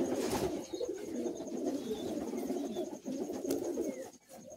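Pigeons in a loft coo in a dense, continuous murmur of low throaty calls, with a few faint higher chirps over the top, fairly quiet overall.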